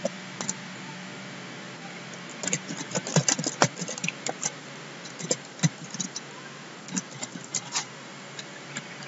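Someone types on a computer keyboard, producing irregular bursts of light, close clicking keystrokes with pauses over a faint background hum.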